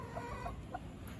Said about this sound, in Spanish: Son unos gallos espectaculares.